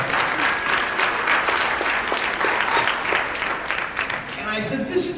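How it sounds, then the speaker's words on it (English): A costume contest crowd applauds with dense, steady clapping throughout, easing slightly near the end while voices murmur underneath. "So, yeah, you can clap for that."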